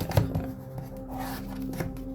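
Cards shuffled by hand at close range, brief soft riffles and slaps scattered over a faint steady hum, with no speech.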